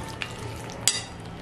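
A prawn and rice mixture being stirred in a pan, with a low sizzle and soft scraping, plus a sharp metallic clink of the spoon against the pan.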